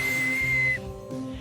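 A single clear, high, steady whistle note is held for under a second in an animated scene from The Owl House, then cuts off and leaves a faint background.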